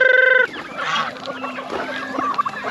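Farm turkeys on a countryside farm calling, a loud honking call up front followed by a jumble of gobbling and clucking from several birds nearby.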